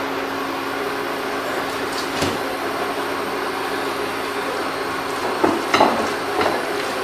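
Beef sirloin patties fry in a pan with a constant, fairly loud sizzling hiss, a few sharper spatters and scrapes breaking through the steady layer.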